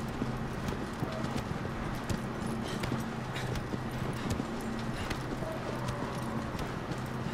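Horse hooves in the video game Shadow of the Colossus, a steady run of clip-clop hoofbeats close by under a constant low ambient hum.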